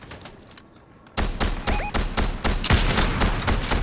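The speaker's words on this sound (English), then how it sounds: "That motherfucker was shooting at me." Gunfire in the video game Fortnite: a quiet opening gives way to loud, rapid bursts of shots that continue steadily to the end, close and punchy.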